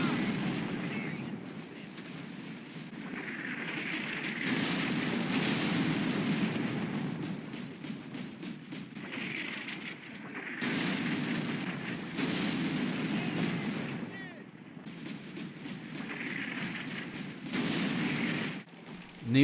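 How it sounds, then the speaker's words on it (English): An artillery barrage in a Combat Mission war game, played fast, gives repeated waves of rumbling blasts and crackling impacts, heavy and sustained with short lulls between them. "I always like watching artillery barrages, so I'm going to let this one play out at fast speed."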